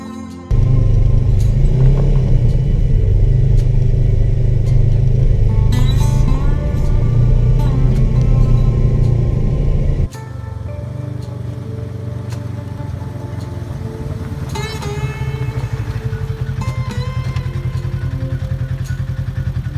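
Off-road vehicle driving through the desert hills of Ocotillo Wells, a loud steady engine rumble with revving and rattling that drops to a lower, rougher drone midway through.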